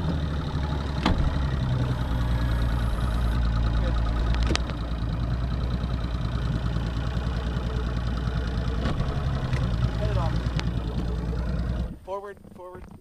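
A big outboard motor on a fishing boat out on the delta runs steadily and loudly, a constant low drone close by under people talking, cutting off near the end.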